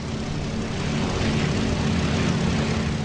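WWII propeller bombers from the Enterprise and Yorktown drone overhead in flight, a loud, continuous, dense engine roar with a heavy low rumble that holds steady throughout.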